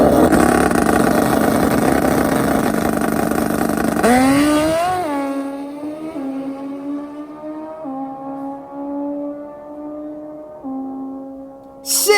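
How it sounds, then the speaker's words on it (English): A turbocharged Suzuki Hayabusa drag bike roars loudly at full throttle on a drag strip, then the engine note shifts up through gears and fades into the distance as it races away. "He's on the turbocharged Suzuki Hayabusa, set to take on Mark Ramirez and his Suzuki GS."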